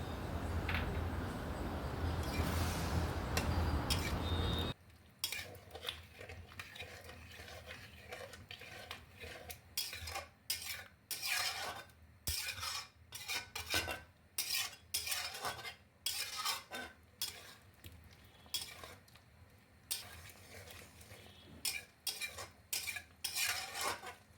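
Potatoes being stirred in a pot for Bengali vegetarian aloo dum, with repeated scraping clinks of a metal spoon against the pot in irregular bursts after a dense opening, close and moderately loud with no talking.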